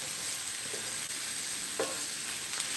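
Onions and peppers frying for cheesesteaks give a steady, moderately quiet sizzle with a faint crackle here and there and no voices.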